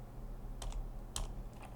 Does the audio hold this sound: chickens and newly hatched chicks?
no